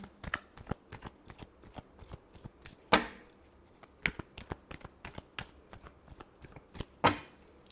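A tarot deck is shuffled by hand in a quiet room, a string of sharp, crisp card flicks and riffles at uneven intervals, with a few louder slaps as the cards are squared.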